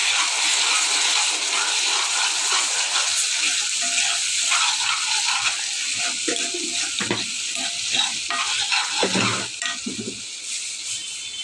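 Water poured into a cooking pan already holding coriander leaves, a steady hissing sizzle that gradually gives way to bubbling and scraping stirs near the end, close and fairly loud, with no talk.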